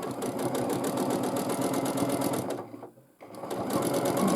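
A sewing machine quilts fabric with a steady, close, rapid mechanical hum that cuts out briefly for a moment before starting up again.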